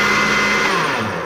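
A blender mixing a banana shake, a loud, continuous whirring roar that holds steady at close range throughout, with no voices.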